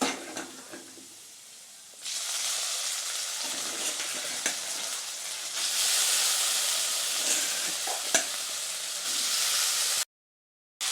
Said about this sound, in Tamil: இப்போ நம்ம வேக வச்சு எடுத்து வச்சுருக்கோம் நம்ம வாழைக்காயை நம்ம உள்ளே சேர்த்துடலாம்